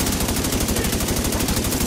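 Sustained automatic gunfire in The Division 2 rattles as a fast, even stream of loud, close shots, steady from start to finish.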